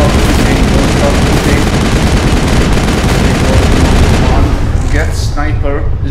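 Loud, relentless gunfire fills a final battle in the video game Mass Effect, rapid shots and booms packed tightly together and then trailing off near the end as other game sounds emerge.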